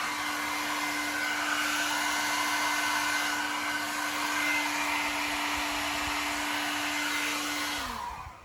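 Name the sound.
blow dryer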